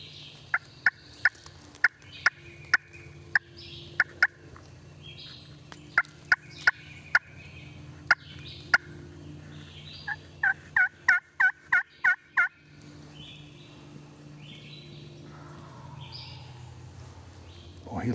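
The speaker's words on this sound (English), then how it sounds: "What a gobble." Wild turkey gobbling in answer to a call near a decoy on timbered ridges: a long series of sharp, loud calls, with a rapid burst of closely spaced gobbles near the middle, over faint outdoor background.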